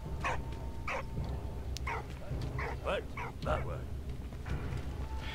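A dog in the video game Valiant Hearts: The Great War gives a series of short yips and barks, about eight in quick succession over a low background hum, with a person talking quietly at times.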